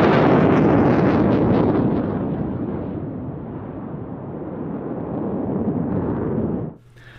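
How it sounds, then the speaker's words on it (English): Big pyrotechnic explosions at an airshow roar out in a loud, sustained rumbling blast that slowly eases over several seconds before cutting off abruptly near the end. "Lots of noise, lots of explosions, fantastic stuff."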